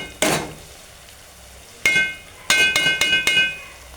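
Metal spoon knocking against a pan while crushed green chilli and garlic paste is stirred in, a lone clank followed by a quick run of sharp ringing taps, close and fairly loud, with no talking.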